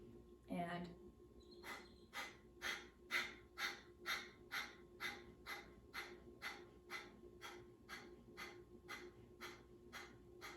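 Rhythmic, forceful nasal exhalations from a kapalabhati (skull shining breath) breathing exercise, about twenty sharp puffs at a steady pace after an initial inhale, close and clear.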